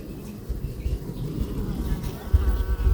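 Honey bees buzzing at a beehive headed by a Kırelice queen from Erzincan: a continuous, fairly close drone with low rumbling, shifting in loudness throughout.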